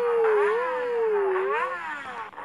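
A Yamaha XJ6 motorcycle engine revs hard toward its limiter, its whining tone swinging up and down in pitch before easing off and fading near the end.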